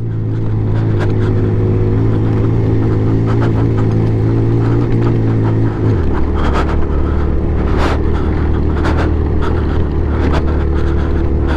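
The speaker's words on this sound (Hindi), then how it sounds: "दूसरे गियर में बाइक को डाला तो है मगर पत्थर इतने, टायर स्लिप होने का बड़ा डर है।" Motorbike engine labouring in second gear up a rocky trail near Karambar Lake in Broghil Valley, a loud steady drone close by whose pitch drops sharply midway, with scattered clatter on top throughout.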